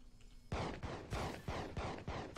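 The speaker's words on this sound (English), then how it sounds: "Okay, they're shooting down." Video game gunfire rings out as loud, repeated bursts that start abruptly after a brief quiet moment and keep pulsing in roughly half-second volleys through the rest of the clip.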